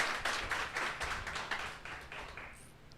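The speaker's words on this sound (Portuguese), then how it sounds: "nós vamos dar um aplauso a Jesus pela sua vida" A church congregation claps along in a steady, quick rhythm. The sound is soft and distant and thins out toward the end.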